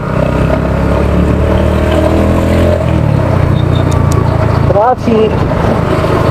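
Road traffic rushes by from a moving motorcycle on a delivery ride, with a steady loud engine drone and wind, a brief horn-like wail near the end, and a rider talking over it.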